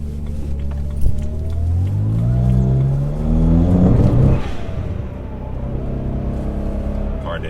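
A car with an N54 engine running an MHD beta tune accelerates hard from low speed, the engine note rising loud and close in pitch for several seconds before easing off, heard from inside the car.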